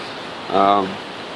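Heavy rain pours down in a constant hiss, heard from inside a hollow, echoing shelter at a mall, with a short burst of a voice partway through.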